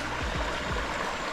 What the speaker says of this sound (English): the sound of the river.